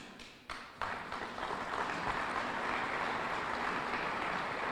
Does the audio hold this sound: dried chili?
no